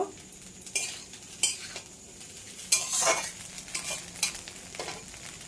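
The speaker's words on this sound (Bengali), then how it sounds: "এখন দেওয়ার পরে আমি এটাকে একটু নাড়াচাড়া করে নেব।" Chowmein with fried egg stirred in a frying pan, repeated spatula scrapes and clinks over a soft sizzle, close up, with no talking.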